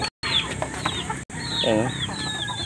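Chickens cluck and call close by at a farmyard coop where Muscovy ducks are also kept, with short bursts of clucking and a rising squawk amid busy outdoor background noise.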